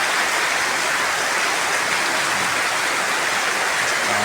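Steady afternoon rain pours in Kidapawan, a dense even hiss of falling drops on surfaces that stays constant and loud from start to finish, with no voices.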